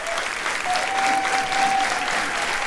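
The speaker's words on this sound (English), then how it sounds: "Thank you for that nice warm applause" A studio audience gives loud, continuous applause to welcome a contestant onto the stage, a thick even roar of clapping with a faint steady tone running beneath it.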